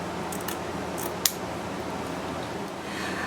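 Scissors cut through gift-wrap ribbon: a couple of faint soft snips and one crisp close clip against a quiet room hum.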